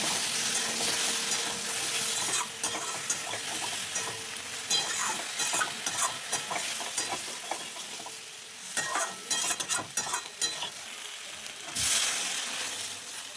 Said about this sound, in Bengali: কষানো হয়ে এসছে এবার পরিমাণ মতো জল দিয়ে দেবো